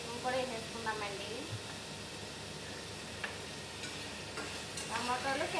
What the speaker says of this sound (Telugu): క్యాప్సికమ్ కూడా వేసేసుకుందామండి.